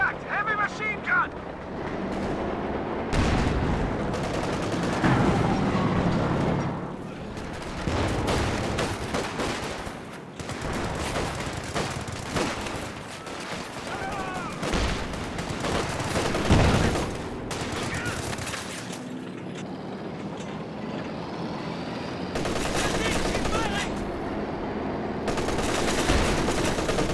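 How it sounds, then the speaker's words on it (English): Heavy machine gun fire in a World War II strategy game match, dense bursts and volleys of gunfire running throughout under continuous game noise, with a commentator talking over it. "Contact! Heavy machine gun!"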